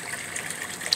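Water pours and gushes while the water in an above-ground pond is being changed, a brief, soft, steady splashing hiss with no talking.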